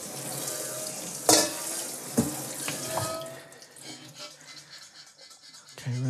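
Homebrewing equipment for a hefeweizen is rinsed under a running tap, with steady splashing water close by and a few sharp knocks of the gear against the sink.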